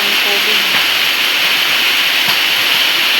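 Rainwater pours steadily into a house during a long rain, a loud continuous rushing hiss like a stream, with brief faint voice fragments early on.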